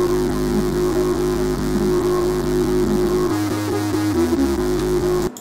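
A thick, buzzing Reese lead synth patch built in Serum 2, playing a continuous detuned bass-heavy line with a wobbling, phasing texture and a pitch change partway through, loud and alone before cutting off abruptly.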